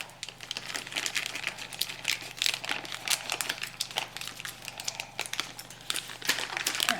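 Plastic bags of baking chips crinkle and crackle as they are pried open, a dense, steady stream of close rustling with sharp crisp bursts throughout.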